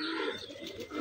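Pigeons coo softly and repeatedly nearby, with faint chirps over a quiet background.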